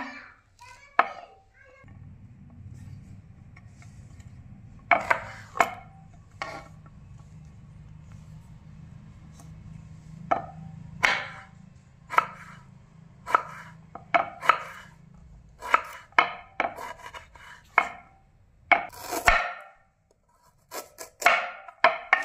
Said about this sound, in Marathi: अशा प्रकारे बीटचे असे उभे कापून घ्या